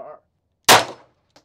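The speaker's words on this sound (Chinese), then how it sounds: "好，我们现在打的是 GSG922" A single sharp, loud shot from a GSG-922 gun at a shooting range, ringing briefly before fading, with a short bit of talk just before it.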